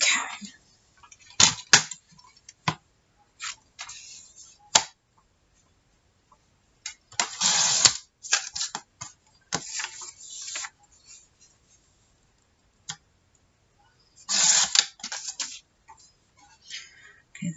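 Scissors cutting out paper graphics for a detective journal, heard as quiet, irregular snips and rustling paper coming in short bursts separated by silent pauses.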